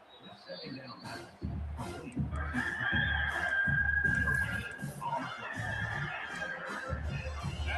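A rooster crows over commentary in a college football video game, a drawn-out crowing call rising mid-clip beneath steady play-by-play talk and game crowd noise.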